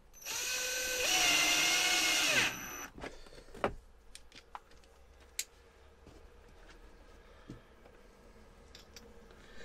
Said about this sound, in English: So that's screw number one on the Ryobi drill.